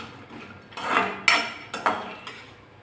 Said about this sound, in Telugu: కొబ్బరి చిన్న ముక్కలు చేసి వేసి యాలకులు వేసి నెయ్యి వేసి వేయిస్తున్నాను